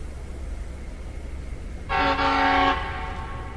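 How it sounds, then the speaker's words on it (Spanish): An old Soviet night train rolls into the platform under a steady low rumble, then a loud tonal horn sounds for nearly a second before fading back into the engine drone. "entrando el propio tren al andén prácticamente a la hora de salida"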